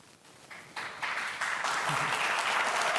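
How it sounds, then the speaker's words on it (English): Reporters and attendees clapping at a political press event, applause starting sparse and quiet then building in steps into a fuller, steady round of clapping. "They're all clapping"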